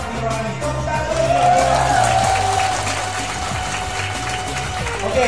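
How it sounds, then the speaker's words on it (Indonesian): Applause at a motivation seminar in Bandung, a sustained crowd clapping under a steady low rumble and a faint tone, with a voice speaking briefly over it. "Tepuk tangan dulu."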